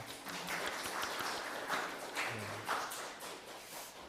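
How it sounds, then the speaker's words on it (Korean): A church congregation claps together to welcome visitors at a Sunday service, a steady roomful of applause at moderate loudness with a few voices mixed in. "우리 옆에 있는 분들 박수로 환영하겠습니다."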